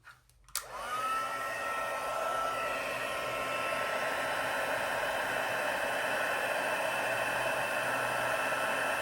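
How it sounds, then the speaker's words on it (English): A craft heat tool for embossing clicks on and blows a steady, hissing whoosh with a constant whining hum, close and unbroken to the end, with no talk. "let me get back out my heat tool"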